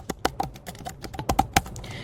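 Rapid keystrokes on a computer keyboard while entering a terminal command, a close, uneven run of sharp clicks with brief pauses and no voices.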